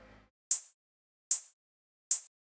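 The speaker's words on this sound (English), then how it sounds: "Then I have a hi-hat." Three crisp hi-hat sample hits from a dubstep beat, evenly spaced and short, each bright tick decaying quickly into silence, with a trace of a voice just before the first.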